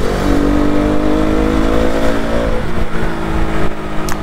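A modified, wrapped KTM RC 200 motorcycle roars past close by, its engine note rising and then falling away over a few seconds, loud and alone without talk.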